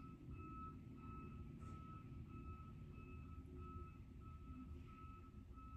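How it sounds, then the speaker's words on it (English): A semi-truck backing up outside a house, its reversing alarm sounding as steady repeated beeps, faint and distant over a constant low rumble. "There's literally a semi-truck backing up right in front of my house."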